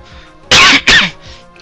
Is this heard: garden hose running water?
no